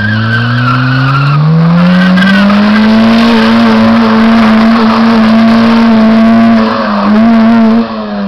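A 1996 Honda Civic slides with a loud, sustained tire squeal that rises in pitch then holds steady for several seconds, close by, with engine noise beneath and no talking.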